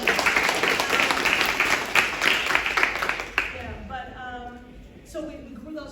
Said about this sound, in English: So let's just do a hand clap for that.